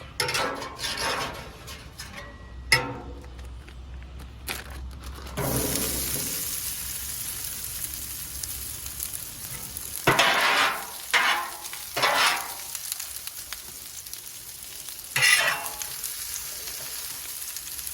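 Onions and peppers frying on a Blackstone griddle for a chicken teriyaki stir fry, a steady close sizzle with occasional scraping and stirring bursts of the spatula against the flat top.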